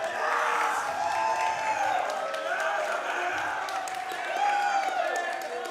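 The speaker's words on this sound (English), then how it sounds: "And the crowd hyped for AESIR this afternoon." A live crowd at an esports grand final of the VR game Breachers cheers and whoops steadily for team AESIR, a dense, moderately distant roar under a commentator's voice.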